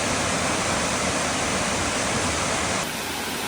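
Waterfall in Bwindi Impenetrable Forest, a loud, steady roar of rushing water filling the whole sound, constant and close, with a slight drop in intensity near the end.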